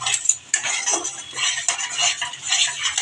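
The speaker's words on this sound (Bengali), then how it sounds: "এখন আমি যতক্ষণ মশলাটা দিয়ে কাঁচা গন্ধটা না যাবে ততক্ষণ আমি কষিয়ে নেব" Spice masala stirred and fried in a pan for a bhangar fish curry, a steady scraping and clinking of a utensil against the pan over a soft sizzle, close and continuous with no talk.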